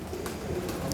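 A pigeon of the one-feather short-tail breed coos softly a few times, close by and faint, with no talk.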